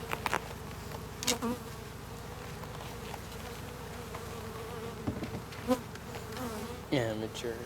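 Honeybees swarm around an opened beehive during an inspection, a dense continuous buzz with a few louder bees passing close by and occasional handling noises.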